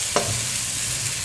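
Ginger garlic paste frying in hot oil, giving a steady close sizzle with a brief stirring scrape near the start.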